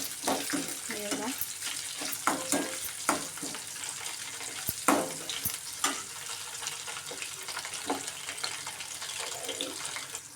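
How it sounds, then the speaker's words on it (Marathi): Garlic frying in oil on a low flame, a soft continuous sizzle broken by repeated scraping and tapping strokes of a spoon in the pan, fairly close and without speech. "आणि सगळं बारीक गॅस करून जरा चांगलं भाजून घेऊया लसूणला कलर देऊया जरा ब्राऊन कलर"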